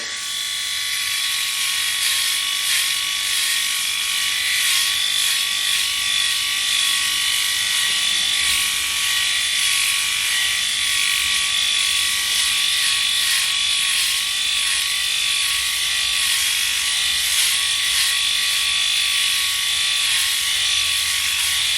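A Freebird FlexSeries electric head shaver runs continuously close up, a steady high-pitched motor whine with a slight wavering buzz as it moves over hair, with no talking over it.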